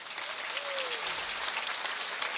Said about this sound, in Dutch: Graag een groot applaus van Nienke Visser